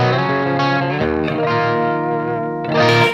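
Electric guitar on a single-coil pickup with the tone knob rolled down to about 2.5, playing a few sustained, softened chords with some effect wash, loud and close, alone without any voice.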